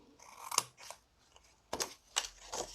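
Scissors cutting card paper for an exploding box card, a few close, distinct crisp snips spaced irregularly with quiet pauses between them.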